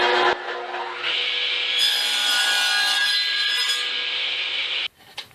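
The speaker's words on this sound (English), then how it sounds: "back over the radial arm saw, we'll make one final cut at 10 7/8" A radial arm saw whines steadily as it cuts through wood for several seconds, then stops abruptly.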